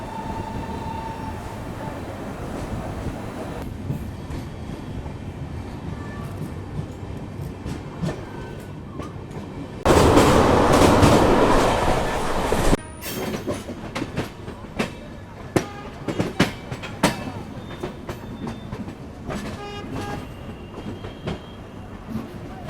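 A GatiShakti fully AC economy train in Indian Railways runs on its rails, giving a rolling rumble with irregular clicks and clacks and a louder burst of rushing noise partway through.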